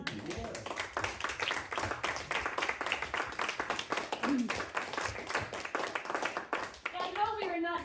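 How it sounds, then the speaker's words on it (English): An audience applauds actors after a stage scene in a theatre talk, sustained dense clapping at moderate level throughout, with a voice briefly heard near the end. "Please give them a round of applause."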